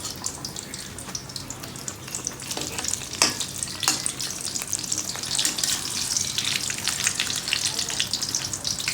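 Ash gourd slices sizzle steadily in hot oil in a pan, frying crisp, with a dense continuous crackle and occasional louder pops close by, no voices over it.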